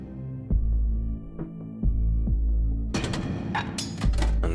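Cannon blasts from Bastion, a series of deep thumping shots at irregular intervals over a steady low drone, the last stretch turning into a dense, bright burst of rapid impacts.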